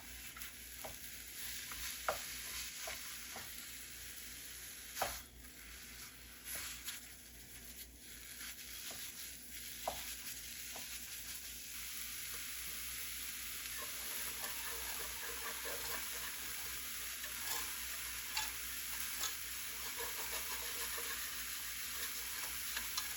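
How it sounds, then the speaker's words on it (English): Turkey sausage frying in a pan while a spoon scrapes and stirs a pot of grits, a steady soft sizzle under scattered scraping clicks and knocks, with no talking. "just continuing to scrape that bottom of the grits while we're cooking our turkey sausage."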